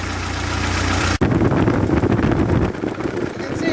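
A 1948 Ford 8N tractor engine idles loud and close with a steady low rumble, then cuts out briefly and restarts before settling into a rougher, uneven idle. The governor linkage is out of adjustment and a cylinder head stud weeps coolant.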